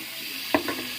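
Thinly sliced radish hits hot oil in a pan, giving a short soft burst of sizzling that settles into a low steady fry with a small stirring flare, no voices.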